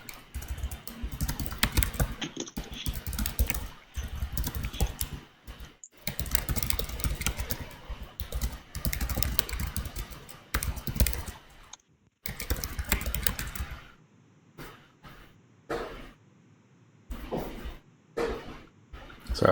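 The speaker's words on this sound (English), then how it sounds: "So I was just typing again." Someone types rapidly on a computer keyboard at close range during an online software design review, with dense bursts of key clicks broken by short pauses and a sparser patter near the end.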